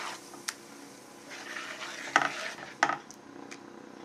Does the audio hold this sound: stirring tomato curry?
yes